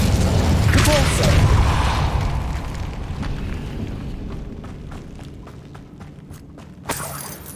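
A Confringo blasting spell detonates in the video game Hogwarts Legacy, a loud booming burst that rolls into a long crackling, shattering decay with scattered debris pops, then a sharp final crack near the end.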